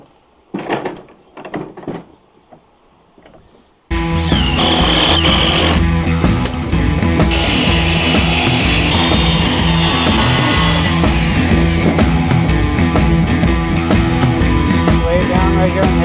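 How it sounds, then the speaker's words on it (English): A power tool cutting caster holes in a wooden crate platform starts abruptly after a few light knocks and then runs loud and steady with a harsh, grinding whine that shifts in pitch as it bites into the wood. "I'm going to cut 4 holes for the casters."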